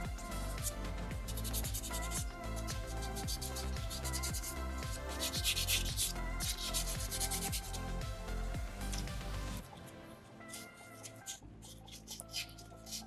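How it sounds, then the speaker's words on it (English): Rhythmic back-and-forth rasping of 600 grit sandpaper on a small soapstone fox carving, fast, even strokes close up that slow and grow quieter near the end. "Sandpaper number 3 is a 600 grit, but it doesn't really get rid of scratches or any marks."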